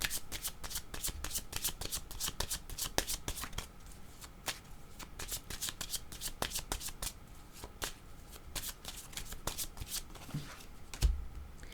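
Tarot cards shuffled by hand in rapid, continuous riffling flutters with brief pauses, close and crisp though fairly quiet, ending with a soft thump.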